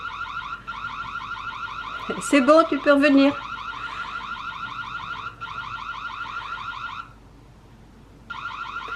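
A loud, pulsing electronic alarm siren from a Reolink Argus PT solar outdoor security camera, repeating steadily after detecting motion, briefly interrupted by someone speaking over it, then cutting out before starting again.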